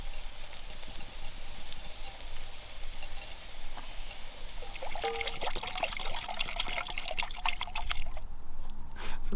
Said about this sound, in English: you're going to add in your coriander seeds